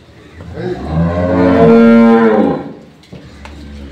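A dairy cow on a farm gives a single long, loud moo close by, swelling and fading over a couple of seconds, with quiet farm background before and after.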